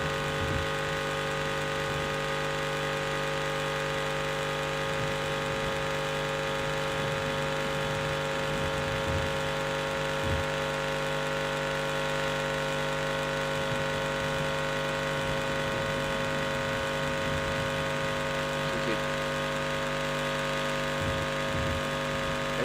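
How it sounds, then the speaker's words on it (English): A steady red truck engine drone in the video game Tornado: Research and Rescue, with a constant hum and tonal whine, unchanging throughout, with faint low thumps now and then. "I think the engine sound's kind of dominating a bit"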